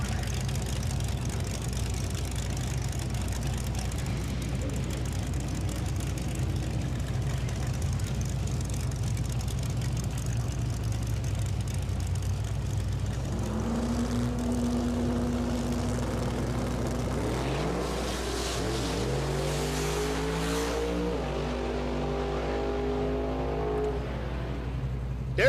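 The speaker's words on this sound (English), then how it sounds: "Gary Main Jr. in the left lane out of Castle Rock in that 66 Chevelle" A 1966 Chevelle and a black Mustang drag racing, engines droning steadily at a distance before one car's revs climb and shift audibly near the end, with no commentary over it.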